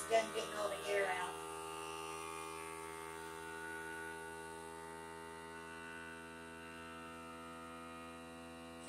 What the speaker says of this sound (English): Make that loud noise until it's done getting all the air out.